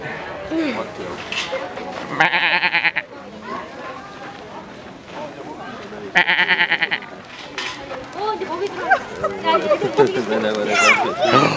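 A billy goat on a farm gives two loud, buzzy bleats a few seconds apart, amid ongoing talk and other livestock calls.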